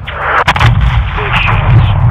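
Heavy artillery-style fire hits a convoy in Call of Duty Modern Warfare II, loud booming blasts with a sharp transient near the start and a rumbling low end that carries through the clip without speech.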